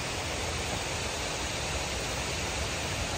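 A waterfall of stepped cascades in Lofoten, Norway, gives a steady, dense rushing roar that never changes or pauses, with no voices or other sounds over it.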